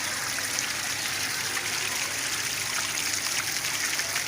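Steady, close rush of water spraying from a burst household water pipeline, continuous and even with no talk over it.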